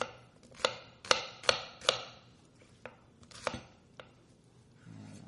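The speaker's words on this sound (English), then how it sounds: "We're just going to chop it up good enough to get it in that processor." A knife chops vegetables on a cutting board, several sharp knocks in quick succession, then a few sparser chops, close and clear with no talking.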